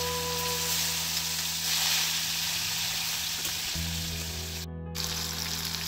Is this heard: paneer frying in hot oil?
yes